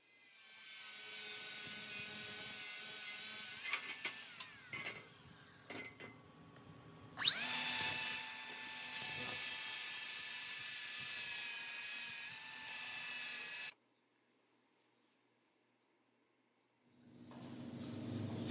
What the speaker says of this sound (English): use my grinder and flat disc to take it down to these lines